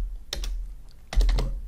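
Two separate keypresses on a computer keyboard, likely the Enter key, make short, close clicks about a second apart in a quiet room.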